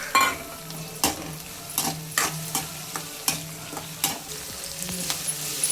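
Onion, green chili, tomato and finely chopped beans being stir-fried for semiya kichadi, with a steady sizzle and repeated sharp scrapes of a spoon against the pan at a roughly one-second rhythm, close and clear with no talking.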